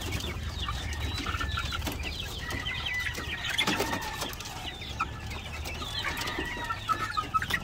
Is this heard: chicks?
yes